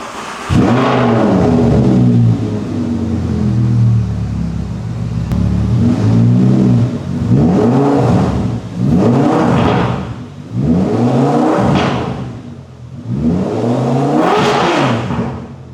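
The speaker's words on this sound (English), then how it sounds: "So let's do a cold start and see how this sounds." An Audi R8 V10 fitted with a Valvetronic exhaust, bumper off, goes through a cold start and then a series of loud revs that rise and fall repeatedly, each a sharp climbing engine howl.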